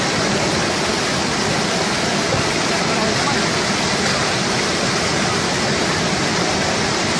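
Swollen river water rushing past a truck overturned mid-river in El Rama, a loud, steady broadband roar that fills the whole clip without a break.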